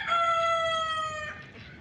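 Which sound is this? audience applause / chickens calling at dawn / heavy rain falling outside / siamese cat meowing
chickens calling at dawn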